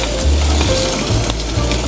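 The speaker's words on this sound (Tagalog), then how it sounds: "Ipiprito lang natin to until you get the golden color." Pork frying in a pan until golden, a loud, close, continuous sizzle and crackle with occasional stirring scrapes, no talking.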